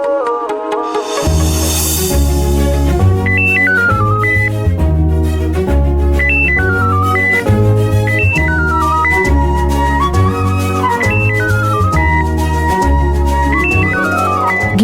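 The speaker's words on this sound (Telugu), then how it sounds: "ఇప్పుడే వాళ్ళబ్బా ఫోన్ చేస్తుర్రు." A mobile phone ringtone for an incoming call, a loud looping electronic melody with repeating phrases that plays on without any talking.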